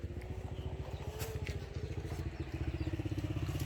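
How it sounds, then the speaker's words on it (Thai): A motorcycle engine running nearby with a rapid pulsing chug that grows steadier and a little louder toward the end, over faint background clatter, with no voices. "มีมอเตอร์ไซค์ นี่นะครับผม"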